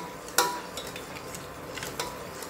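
A spoon scrapes and clinks against a metal saucepan while stirring milk, soft stirring sounds with a sharper knock near the start, quiet and close.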